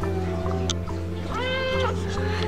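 A kitten lets out one clear, rising meow close by, over a steady low background hum.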